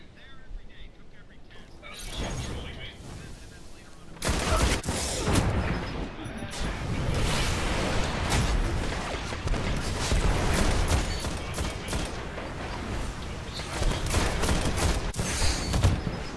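Sniper shots and gunfire in a Destiny Iron Banner multiplayer match: dense, loud bursts of combat fire and explosions, with sharp shots standing out against a constant roar of battle noise.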